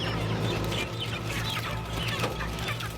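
A dense, chaotic din of many chickens clucking and squawking during industrial poultry catching at a pace of 10,000 birds an hour, over a steady low machinery hum, loud and continuous with no talk.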